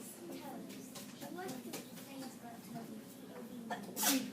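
A single sharp sneeze bursts out near the end, following a stretch of quiet talking from one person close by.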